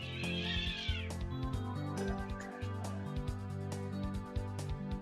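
A cat meows, a drawn-out rising and falling cry near the start, heard over busy game music with beeping tones and thumps.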